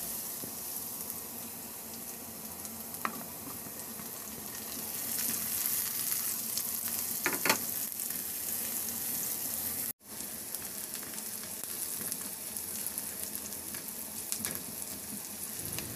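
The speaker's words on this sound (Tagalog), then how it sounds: "Isunod ko na rin ilagay yung bawang. Ihalo lang hanggang sa maglabas ng aroma" Ginger, garlic and onion sauté in a pan with a dense, steady sizzle that carries on throughout. A few stirring scrapes rise above it, and there is a brief dropout partway through.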